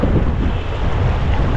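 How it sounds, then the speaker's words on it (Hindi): Raft running fast rapids on the Kunhar River near Naran, with loud continuous rushing water and wind buffeting the microphone, steady and close throughout. "इसके अंदर हम 2 किलोमीटर ये राफ्टिंग करने लगे हैं और राफ्टिंग अब तेज है"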